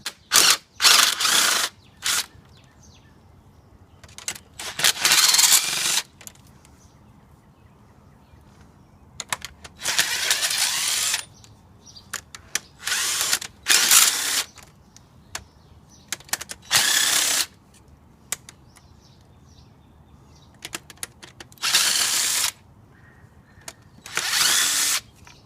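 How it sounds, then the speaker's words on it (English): A 3/8 impact wrench runs out the cylinder head bolts on a Nissan 300ZX, firing in repeated sharp bursts of hammering whir separated by short pauses, close and loud in a quiet garage. "So I'm just going to get a 3/8 impact"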